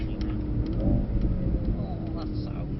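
Mercedes C63 AMG engine rising in pitch as the car accelerates out of a corner, heard from inside as a passenger ride, a steady loud drone with people talking over it.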